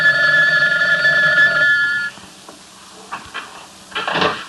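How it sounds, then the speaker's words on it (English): A telephone rings at home: a loud, steady electronic ring for about two seconds, then stops, followed by faint handling clicks and knocks. "Do you want to answer the phone, Mary?"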